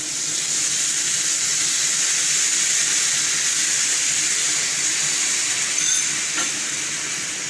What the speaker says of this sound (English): we add a few drops of water into this